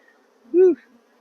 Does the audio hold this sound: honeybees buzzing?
yes